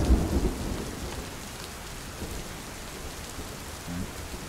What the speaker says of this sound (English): we have this storm kind of permeating through the entire thing. All right, it's like light rainstorm